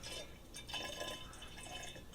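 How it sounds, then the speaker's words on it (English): Rye whiskey, Sagamore 8-year, poured two ounces into a glass for a Manhattan, a soft steady liquid trickle heard close and faint over low room noise. "2 ounces. Sagamore 8-year. And let's pour it in."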